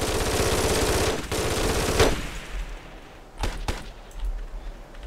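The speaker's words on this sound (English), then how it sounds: "there's still enemies shooting at us" Gunfire in the video game Ghost Recon: Desert Siege opens with a loud sustained machine-gun burst. Scattered single shots and thuds follow at a distance as the firing thins out.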